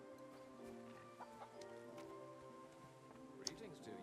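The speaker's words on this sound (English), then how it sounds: "Hey, chickens." Chickens cluck softly in a medieval village in the video game Kingdom Come Deliverance 2, short scattered clucks over a steady ambient bed with faint rain-like texture, quiet and close.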